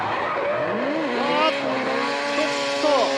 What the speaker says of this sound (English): It sounds like his car is ready to battle it out.